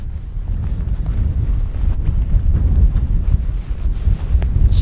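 Cold wind gusts steadily across a snowy mountain ridge at Seonjaryeong during a winter bike-camping trip, a loud continuous low rumble of buffeting air on the microphone throughout.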